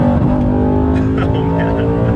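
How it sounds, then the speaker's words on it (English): An Audi with a dual-clutch gearbox revving loudly and continuously close by, a dense engine drone with a rising pitch. "dual clutches want to sync the RPM before it'll go, so if you get the downshift right."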